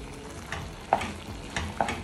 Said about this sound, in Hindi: अब इसको कंटिन्यूसली मुझे स्टर करना पड़ेगा